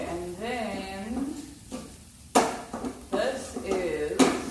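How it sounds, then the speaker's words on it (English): Food fries and is stirred in a pan, with soft sizzling and scraping strokes and a few sharp clanks of a utensil against the pan, mixed with a voice talking close by. "I'm basically just frying it up."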